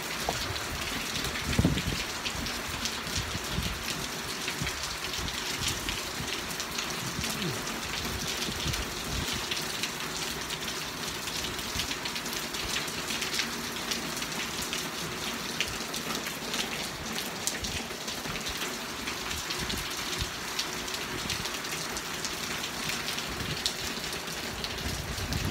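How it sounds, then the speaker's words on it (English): Heavy rain pours steadily onto surfaces outdoors in Barcelona in November, a loud, continuous wash of drops and splashes that holds constant for the whole stretch, with no talking. "That is heavy rain, you know."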